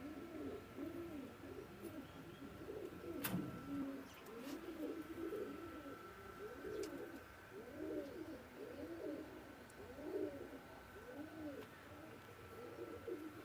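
Pakistani bloodline Teddy pigeons coo repeatedly in a soft, rhythmic series of low calls, steady throughout, with faint background noise and an occasional tap.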